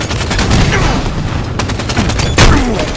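Halo 5 sniper rifle fire in a multiplayer match: sharp, loud gunshots crack out in quick succession, with a heavy report near the end over busy game sound effects.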